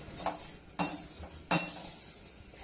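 Urad and moong dal dry-roasting in a pan for Maharashtrian bhajani, stirred with a utensil: soft scraping and rustling with a few sharper clinks of spoon on metal, fairly close and quiet, no voices.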